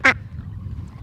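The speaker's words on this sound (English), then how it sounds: "we're gonna bring 2 ducks in" A single loud duck quack comes from close by on a homestead brooder. A low background rumble continues after it.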